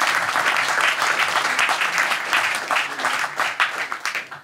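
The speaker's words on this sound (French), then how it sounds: "On peut les applaudir" Audience applause for invited guests at a French evening debate on peace in Ukraine, dense steady clapping from a sizeable crowd throughout, thinning slightly toward the end.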